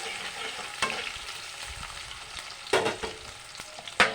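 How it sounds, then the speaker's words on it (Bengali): Chopped onions fry and get stirred in a pan, a soft continuous sizzle broken by several sharp clacks of a spoon against the pan, close and moderately quiet, no talking. "পেঁয়াজ কুচি দিয়ে ভালোভাবে নাড়াচাড়া করবো"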